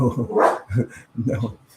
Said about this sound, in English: That's my dog Boogie in the back.